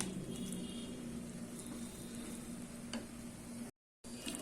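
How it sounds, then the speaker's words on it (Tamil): Flattened rice and boiled moong dal are stirred together in a pan for aval ven pongal, a soft, steady scraping and sizzle running close and continuous, with a short break near the end. "நல்லா கலந்து விட்டுடலாம்."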